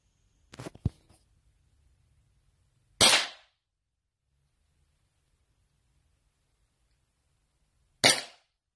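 An Umarex Glock 19X airsoft pistol with a feeding fault fires three sharp, loud isolated cracks spaced seconds apart, the first with a short double snap, separated by near silence.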